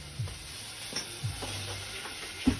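Potatoes and tomatoes roast in a hot pan with a steady, soft sizzle, broken by a few faint knocks of stirring.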